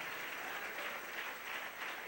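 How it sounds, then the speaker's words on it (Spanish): A church congregation applauding, a dense, even wash of many hands clapping at moderate volume, continuous throughout with no voices over it. "Denle un aplauso al Rey en esta preciosa mañana."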